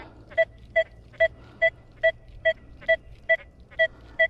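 A two-tone electronic metal detector beep repeats about ten times at an even pace, each short and clear over a faint low hum, signaling a target with some iron mixed in.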